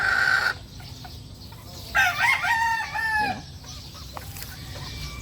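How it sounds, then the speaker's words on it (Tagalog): A large JM Fantastic rooster in a small backyard poultry pen crows loudly once, its call rising and breaking into a long drawn-out note, with short clucks before and after over a steady outdoor background. "Ang laking manok nito."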